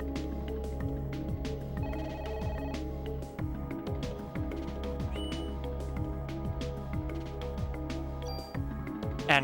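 A telephone rings in the video game Parasite Eve, repeating a soft electronic ring over a steady low game hum, quiet and even throughout.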